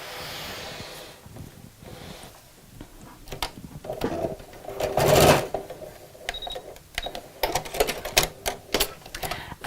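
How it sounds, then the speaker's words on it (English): A sewing machine stitches across the end of an elastic strip, with short bursts of rapid mechanical clatter and pauses between runs, close by. "I'm going to sew just over the end here just to secure it"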